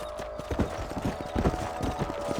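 Horse hooves clip-clopping in Red Dead Redemption while riding through a ranch at night, a quick steady trot of close, thudding hoofbeats over a low ambient hum.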